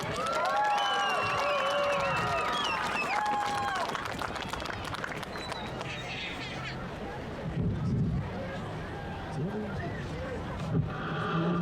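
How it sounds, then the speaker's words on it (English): A crowd at a high school homecoming event applauds the king and queen candidates, with sustained clapping and cheering under shouting voices and general crowd babble, moderately loud and spread out across a large space. "Please give a round of applause for Peyton and Logan."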